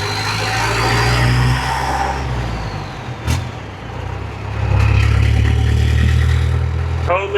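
A classic Chevy Apache truck with a diesel engine, its loud, close, deep rumble idling and then revving up, with a clunk partway through and a hiss near the end.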